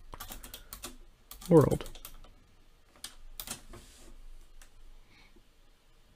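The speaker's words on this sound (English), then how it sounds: "we'll type in hello" Computer keyboard typing in a messaging tool, a few quick soft key clicks in short bursts around a brief spoken word, with sparse taps afterward in a quiet room.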